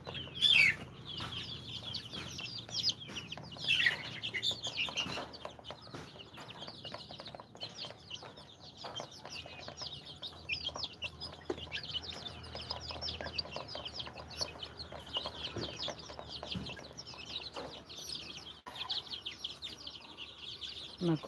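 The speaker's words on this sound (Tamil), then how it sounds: "நம்ம கோழி குஞ்சுகள்லாம் எப்படி இருக்கு பாருங்கள்." Native country chickens and chicks on a Tamil farm, clucking and peeping continuously in a busy, close flock chorus, with high chick cheeps dense throughout and no talk.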